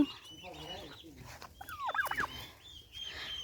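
Turkeys gobble at moderate distance in a rural village setting, one rapid warbling gobble burst standing out over quieter background clucks and faint outdoor noise.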